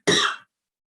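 A single short cough, close and fairly loud, lasting under half a second and followed by silence.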